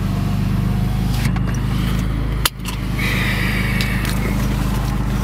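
Idling 2006 BMW M3 convertible with a Magnaflow straight-pipe exhaust, a steady loud low rumble held close by, broken once by a sharp brief knock midway.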